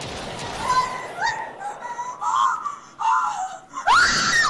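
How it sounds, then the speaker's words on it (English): Zombies in a virtual reality zombie shooter let out shrill, wailing screams, loud and close, in several rising and falling bursts, with one more sharp shriek near the end. "They're screaming directly in my eardrum."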